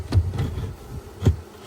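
Honeybees buzz around a hive at close range in a low, droning hum, with a few louder swells as single bees pass near.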